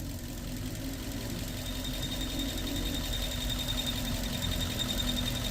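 A Suzuki Baleno's engine idles with a steady, close rumble, while a light chik-chik ticking noise runs faintly through the even drone without pause.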